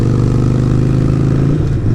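A Harley-Davidson Sportster motorcycle engine runs loud and close with a steady, lumpy low throb, a brief dip in revs near the end before settling back.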